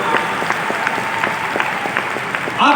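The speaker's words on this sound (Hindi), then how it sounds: "आप लोग अपने लिए अभी तक की जोरदार तालियां बजाइए" An audience at a Shankhnad program gathering applauds loudly and steadily, with dense clapping throughout and a brief louder swell at the end.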